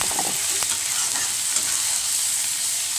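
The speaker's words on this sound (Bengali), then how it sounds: "কড়াতে আবার তেল দিয়ে কালো জিরের ফোড়ন দিয়ে হলুদ গুঁড়ো, লঙ্কা গুঁড়ো, পেঁয়াজ বাটা দিয়ে ভালো করে নাড়িয়ে নেব" Nigella seeds, turmeric, chili powder and onion paste fry in hot oil in a kadai for a prawn and potato curry, a loud, even sizzle with a few scraping stirs early on.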